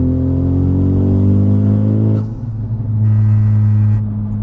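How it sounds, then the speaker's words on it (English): A 2020 Honda Civic Type R engine revs loudly and holds a high note, drops off briefly, then revs again, close by with no talking. "Yeah, this car sounds amazing."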